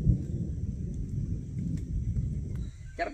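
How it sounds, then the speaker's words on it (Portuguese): Thunder rolls through a rainforest storm along the Transjuruti road, a steady low rumble lasting nearly three seconds before it drops away and a short, brighter sound follows. "Trovão pra todo lado."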